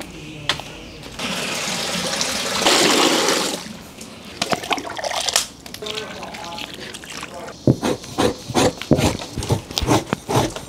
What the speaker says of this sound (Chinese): 现在呢用开水把这毛烫一下